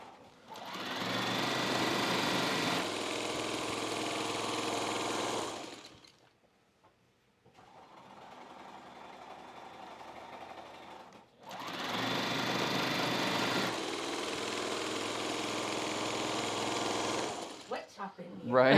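A sewing machine stitches a jelly roll race quilt in two long, steady bursts several seconds each. A brief quieter stretch separates them, and voices talk in the room around it.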